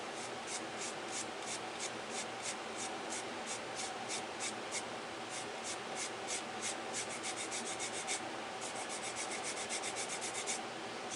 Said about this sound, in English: Zest of 2 limes.